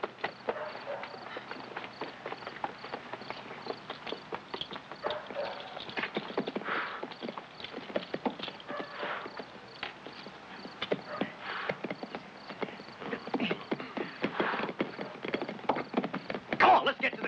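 Horses' hooves clip-clop in a busy, irregular rhythm, fairly quiet and somewhat distant, with brief voices and rustling mixed in around them.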